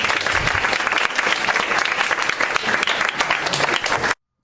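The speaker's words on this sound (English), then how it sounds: "if you could give them one last round of applause" A crowd claps loudly and continuously in a dense, even roar that holds for about four seconds, then cuts off abruptly to silence.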